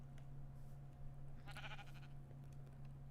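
Sheep bleating in modded Minecraft, one short wavering bleat about halfway through, faint over a steady electrical hum and low background noise.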